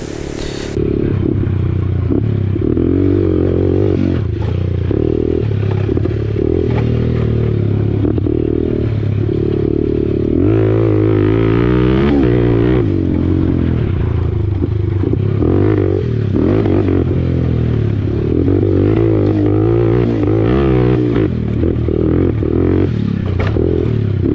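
A motocross motorcycle engine held at full throttle, loud and close, with a rough sputtering tone from being out of tune, plus clattering and scraping along the track.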